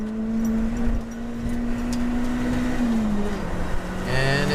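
A Honda Prelude engine revs high in second gear with VTEC engaged, a loud, sustained engine drone holding near constant pitch, then dropping and shifting as the revs change near the end.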